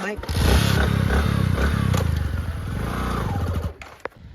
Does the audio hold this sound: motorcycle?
yes